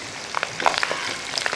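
Grated coconut and curry leaves fry in oil for a chicken biryani gravy, giving soft, scattered crackles and light sizzling pops, fairly faint and with no talk.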